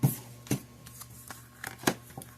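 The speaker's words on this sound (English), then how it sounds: "I literally just shuffled your cards" Tarot cards being shuffled by hand: a few quick soft riffles and taps close to the microphone, scattered over a couple of seconds against quiet background hum.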